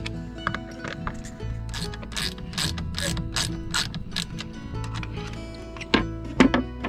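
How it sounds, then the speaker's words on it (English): A ratchet wrench snugging bolts on the rudder steering cables of a 1990 Gemini 3200 boat: loud, close bursts of rapid ratcheting clicks repeated in a steady rhythm, over a low background hum, with a couple of sharper knocks near the end. "let's snug up these bolts"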